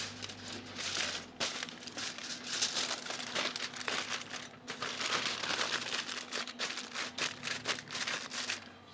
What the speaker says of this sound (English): I'm gonna double wrap this just to be sure